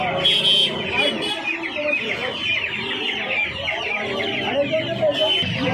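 Fighter-breed and silky chicks at a busy hen market in Uluberia, chirping in a dense, continuous chorus, with hens clucking and people talking throughout the crowded stalls.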